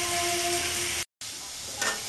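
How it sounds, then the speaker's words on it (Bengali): Potatoes frying in a pan, a steady loud sizzle with a brief cut partway through, then the hiss continues alone. "আলুটা লাল লাল করে ভেজে নেবো আগে"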